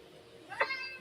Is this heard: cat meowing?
yes